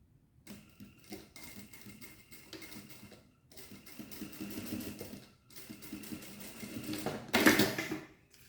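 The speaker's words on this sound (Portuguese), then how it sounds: "Nós vamos pespontar aqui do lado do forro, a ponteira." A sewing machine topstitches along the lining side of a handbag, running in short close bursts of rapid mechanical stitching separated by brief pauses, with a louder clattering stretch near the end and no talking.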